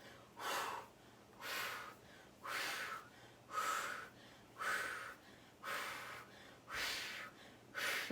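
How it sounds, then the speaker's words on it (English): Forceful breaths during a Pilates core exercise, eight steady rhythmic exhales about one second apart, close and soft with no talking. "And then I'm gonna inhale and exhale."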